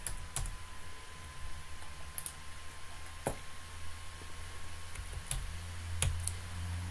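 Typing on a computer keyboard while filling in fields in accounting software, faint scattered key clicks over a steady background hiss in a quiet room.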